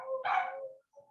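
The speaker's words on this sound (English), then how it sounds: "Now both dogs are barking and they're just ridiculous." Two dogs shut in their kennels barking, one loud burst of overlapping barks followed by a shorter, fainter bark after a brief gap.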